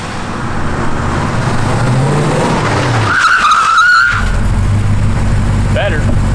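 On a test drive of a restored 1967 Ford Mustang S-Code, tyres squeal in a brief, loud skid over continuous engine and road noise, with people talking inside the car.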